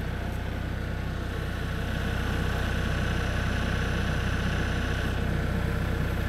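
An MEP 802A/803A military generator engine runs steadily at idle, a loud continuous diesel drone with a strong low hum and even mechanical vibration, no voices throughout.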